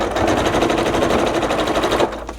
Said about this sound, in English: I'm not going to sew all the way around because I want to show you what that corner looks like.